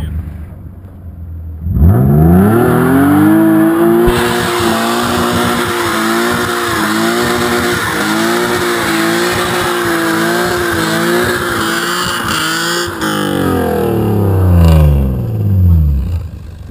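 A car doing a burnout, its engine revving hard and its tires squealing in one long, loud, continuous howl that swells at the start and surges again near the end.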